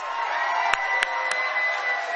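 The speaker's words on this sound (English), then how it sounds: "Let's give him a round of applause." Crowd at a Donald Trump rally in a National Guard armory in Lawrenceville, New Jersey, cheering and whooping in a sustained roar, with a few sharp claps standing out.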